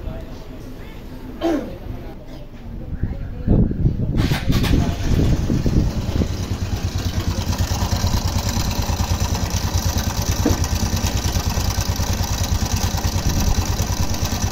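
A Rusi RS125FI motorcycle engine idles close by with a persistent rapid timing chain rattle; a brief cough and some muffled handling noises come early on.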